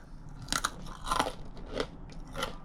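Four crisp, crunchy bites into a snack made from taro and berries, each followed by brief chewing, close and quiet with no talk.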